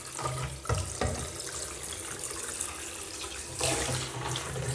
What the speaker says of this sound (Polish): I przystępuję do płukania filmu.